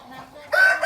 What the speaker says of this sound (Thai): นี่ครับแม่ไก่มันห่วงเนี่ยมาแล้วเนี่ยเห็นไหม